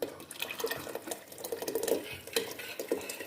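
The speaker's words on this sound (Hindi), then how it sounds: "थोड़ा इसमें हम पानी डालेंगे और इसको मिक्स करते जाएंगे।" Spice paste and water are stirred in a cooking pot with a spoon for chicken nihari, making a steady run of soft scraping and sloshing taps, close up, with a faint sizzle underneath.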